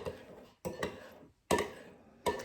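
A thick char siu pork marinade is stirred with a spoon or small whisk in a bowl, giving a few separate bursts of scraping and clinking that stop and start with short pauses.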